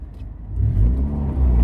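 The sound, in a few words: Honda Civic EK car engine revving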